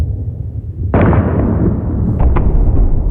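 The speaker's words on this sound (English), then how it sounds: "all the explosions are just explosion echoes from Artlist" Explosion echo sound effects, used as stock library sounds: a sudden loud boom hits after a quiet rumble, followed by a long rolling echo and a couple of smaller cracks in the tail.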